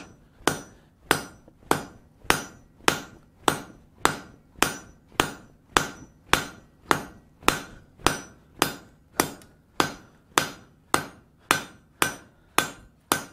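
A blacksmith hammers hot steel to forge a boss, striking in a steady, evenly spaced rhythm of about twenty sharp ringing blows, close and clear with no talking.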